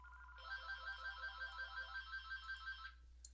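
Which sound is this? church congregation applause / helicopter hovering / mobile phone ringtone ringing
mobile phone ringtone ringing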